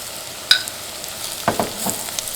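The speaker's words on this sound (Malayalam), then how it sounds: "ഈ മഞ്ഞൾപ്പൊടി ഇതിനകത്ത് കിടന്നിട്ട് നന്നായിട്ട് മുരിയണം." Turmeric powder fries with onions in a pan for simple tomato rice, giving a steady soft sizzle with a few scraping stirs and small clicks of a utensil against the pan.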